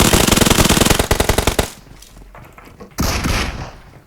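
Rapid automatic gunfire from a video game rattles loudly in a long burst, followed by quieter game ambience and then another loud blast of shots.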